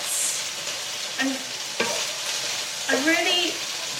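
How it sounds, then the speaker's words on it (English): Steady sizzling of food frying in a pan, with occasional clinks and scrapes of a utensil stirring, close by and continuous. "I'm currently cooking dinner at the moment. Sorry if it's a bit noisy"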